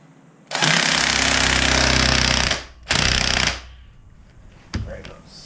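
An impact-style power tool tightens a coilover air bag suspension conversion, one long loud hammering burst then a shorter one, close up, with a faint brief noise afterward.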